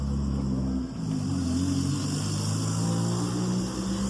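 A taxi car with its exhaust removed, its engine droning loud and rough with deep pulsing tones that rise and fall as it revs, close by and continuous.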